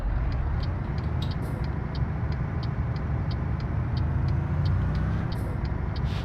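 Steady low truck engine drone from a driving simulator heading toward Gdansk, continuous and fairly loud, with faint periodic ticking above and no talk.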